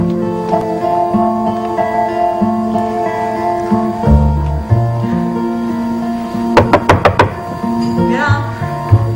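A short burst of knocks on a door, about four quick raps, lands over a loud, sustained musical score.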